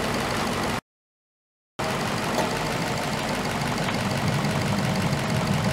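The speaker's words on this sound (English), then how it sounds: "I'm gonna rev the engine again and see what happens." A car engine revving on a vehicle with a bad radiator cap and an overfilled coolant reservoir, a steady mid-low engine drone heard close up, briefly cut out near the start, with no talking.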